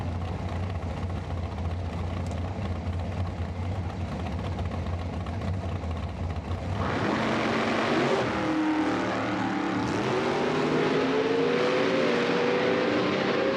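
Nitro drag racing cars at an IHRA Outlaw Nitro event at Milan start with a low idle rumble, then launch into a sudden, loud roar. The roar rises and warbles as they accelerate away, with no talking over it.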